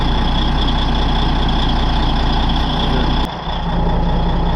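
Caterpillar D8N bulldozer engine running steadily after an old cold start, a loud, close, continuous heavy diesel drone with a brief dip in level near the end.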